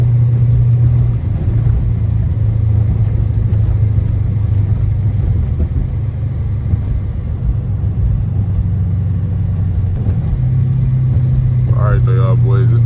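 A straight-piped 345 Hemi Dodge Charger R/T drones loud and low on the highway, a steady deep exhaust rumble from inside the car with slight shifts in pitch, and a voice briefly over it at the end.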